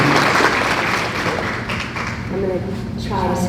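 Audience applause for Stephanie at an overdose summit, a dense steady wash of clapping that thins slightly midway, with a voice beginning to speak near the end.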